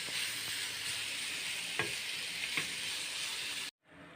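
Onions fry in a pan with a constant crackling sizzle while a utensil scrapes and taps a few times as they are stirred, close up, before the sound cuts off abruptly near the end.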